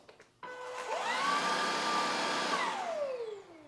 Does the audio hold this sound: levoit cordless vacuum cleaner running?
yes